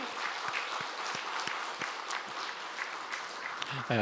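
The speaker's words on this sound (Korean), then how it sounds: "우리 다시 한번 인사할 때 축복하며 박수해 주십시오" Church congregation applauding during a Sunday worship service at Bongcheon Methodist Church, a steady wash of many hands clapping at moderate distance throughout, with a voice starting to speak right at the end.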